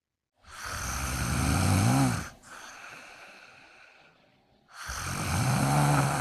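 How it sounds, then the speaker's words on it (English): A kuvasz puppy dozing gives long, heavy snoring breaths, two loud rasping inhales with a quieter exhale between, close by, with no voices. "You are not sleeping, but just snoring."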